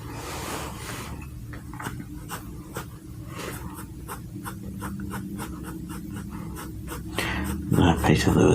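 A pencil rasps across paper while a pine tree is drawn, close and soft, in repeated short strokes with brief pauses between them. Near the end a louder rubbing or shuffling sound comes in.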